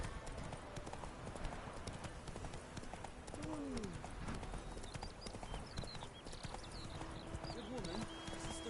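Roach, Geralt's horse in The Witcher 3, gallops with rapid, rhythmic hoof clip-clops in a game soundscape, steady and close, with a brief neigh and some talking.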